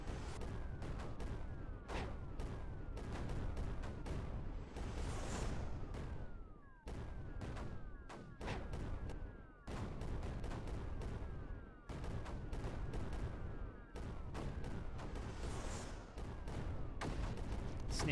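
A launcher in the strategy game Creeper World 4 fires repeatedly, giving quiet, sharp shots in irregular bursts with brief whistling trails between them, all at low volume.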